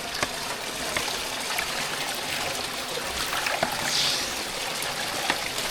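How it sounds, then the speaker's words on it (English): Water rains down steadily onto a sluice mat in a multi-stage gold recovery setup for crushed ore, a constant close splashing trickle with small irregular drips and no talking. "See the water raining down"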